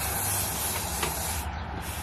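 A spray can hisses in a steady, close burst that drops off near the end.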